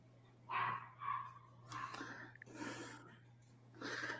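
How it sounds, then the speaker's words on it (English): A dog barks and huffs somewhere inside a house, a few short muffled woofs and snorty breaths at moderate distance over a steady low electrical hum. "I hear a dog."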